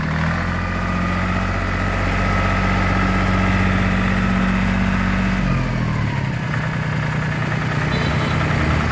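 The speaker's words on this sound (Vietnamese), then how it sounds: "Máy nổ rất là yên luôn nha anh em." A Mitsubishi 250 tractor engine idles steadily up close, a deep even drone with strong low harmonics that shifts slightly lower near the end, with no voices over it.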